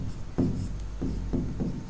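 A pen or pencil writes an equation on paper in short scratchy strokes, three or four quick bursts of rubbing, close and clear, with no talking over them.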